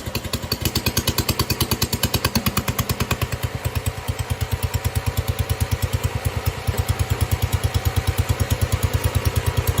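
A 1969 John Deere 112 lawn tractor engine runs with a muffler fitted, a loud, steady, close thumping idle with an even, rapid firing pulse throughout and no voices.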